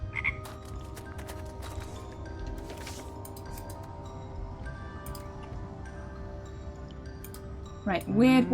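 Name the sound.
frogs croaking in the video game Wytchwood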